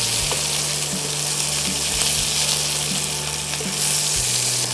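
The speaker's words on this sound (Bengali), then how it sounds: "তারপরে দেবো পেঁয়াজটা দিয়ে দেবে।" Onions frying with nigella seeds in hot oil: a loud, steady hiss and crackle close up, continuous throughout, with a few soft knocks underneath and no talking.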